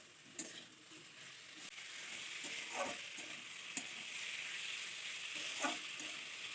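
Fried flat beans and potatoes with spices sizzling in a pan for fish curry, a soft continuous fry under repeated scraping and stirring strokes, fairly faint and close, with no talking.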